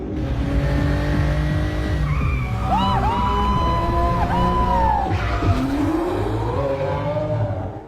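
A yellow sports car races past at high speed on a foggy night road in a film scene, engine roaring with tires squealing and sliding amid other traffic, loud and close throughout.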